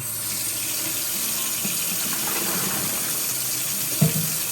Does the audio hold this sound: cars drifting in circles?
no